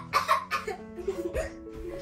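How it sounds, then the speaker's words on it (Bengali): A person gives a few short, close coughs in quick bursts, with a brief vocal sound mixed in. "কাশি কেন হচ্ছে?"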